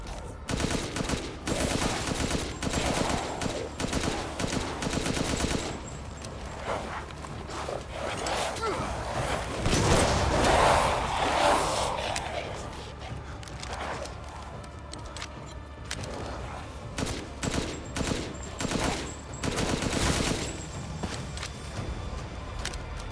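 Rapid gunfire in Resident Evil Village, with bursts of hard-recoiling shots repeating in quick rhythm across the stretch, loud and close, while someone talks over them.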